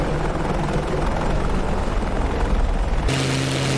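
Helicopter in a flight-sim video game (DCS or War Thunder), a loud steady rotor and engine drone throughout, the tone changing abruptly near the end as a lower hum steadies.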